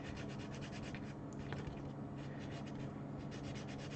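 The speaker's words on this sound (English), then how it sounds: "Wood sand." Wood being sanded by hand in quick repeated back-and-forth rubbing strokes, a soft, close, steady scratchy rasp with no voices.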